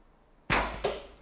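An arrow loosed from an SAS Scout survival bow, with no silencing fitted: a sharp, loud snap of release and a second burst about a third of a second later, close and without speech.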